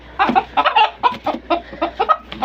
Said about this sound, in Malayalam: അപ്പോൾ ഞങ്ങളെ നാടൻ കോഴിയാണിത്